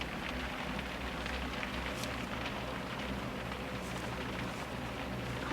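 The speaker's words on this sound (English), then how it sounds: "It doesn't matter if it's raining." Steady rain patters on surfaces outside a garden shed on a cool day, a continuous close wash of drops.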